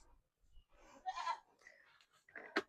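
Nigerian Dwarf dairy goats bleating in a milking parlor, a few short, fairly faint calls close by with a sharper bleat near the end, no talking.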